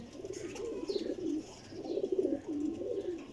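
A Salara flying pigeon coos close by in two clear, rolling phrases separated by a short pause, with no talking over them.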